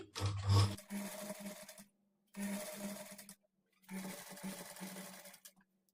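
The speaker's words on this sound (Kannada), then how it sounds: "ಪೈಪಿಂಗ್ ಕ್ಲಾತು ಒಂದು ಕಾಲು ಇಂಚಷ್ಟು ಎಕ್ಸ್ಟ್ರಾ ಇಟ್ಕೊಂಡು ಸ್ಟಿಚ್ ಮಾಡ್ಕೊಳ್ಳಿ" A sewing machine stitches piping cloth onto a blouse neckline in three distinct bursts of steady mechanical whirring, separated by brief pauses, with no talking.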